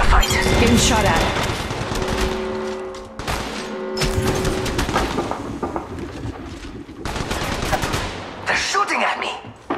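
Bursts of rapid automatic gunfire from the battle royale video game Apex Legends Mobile crackle loudly in repeated volleys, mixed with game voice lines and in-game effects.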